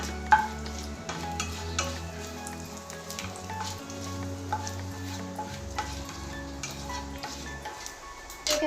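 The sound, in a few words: panch phoron spices and bay leaf sizzling in hot oil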